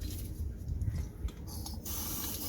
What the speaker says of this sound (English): we're gonna spray penetrating oil on these nuts